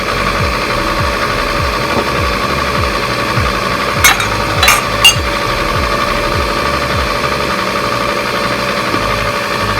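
A stand mixer with a whisk attachment beats batter for an apple upside down cake, giving a loud, steady motor drone with a fast rhythmic whir and a few brief clinks partway through.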